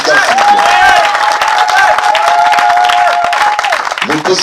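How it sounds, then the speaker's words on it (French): Crowd at a political rally in Fougamou applauding, steady clapping and cheering with a sustained whistle or ululating tone riding above, loud and close. "Je vous demande d'applaudir pour notre président."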